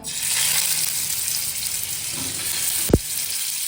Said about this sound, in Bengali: তো তেল এখন গরম হয়ে গিয়েছে, গরম তেলের মধ্যে মাছগুলো দিয়ে দেব।